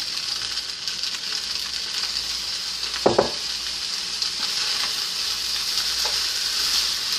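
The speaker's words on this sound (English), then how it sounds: "So we're gonna keep stirring it around." Shrimp fried rice sizzles steadily in a pan with a continuous loud frying hiss, while a spatula stirs it and gives a few brief scraping knocks.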